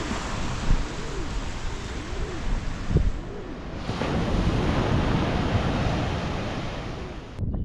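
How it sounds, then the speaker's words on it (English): Ocean waves crash and wash continuously in a loud roar of surf, with gusty wind buffeting the microphone. "Oh, listen to the waves crashing."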